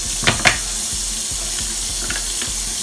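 Warm tap water running steadily from a faucet to wet hair, a loud continuous splashing stream with a few brief spattering bursts near the start, no talking.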